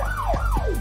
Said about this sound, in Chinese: 马蒂尔达的警笛修好